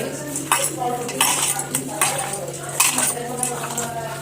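Metal spoon clinking and scraping against a pan while chicken curry ingredients with salt and a few drops of mustard oil are mixed, in irregular close bursts over steady background hum.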